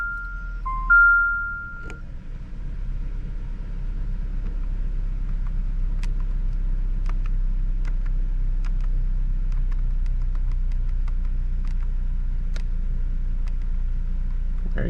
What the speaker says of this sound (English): Now we'll start the car, and the oil light should be reset now.